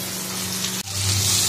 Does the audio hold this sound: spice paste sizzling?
yes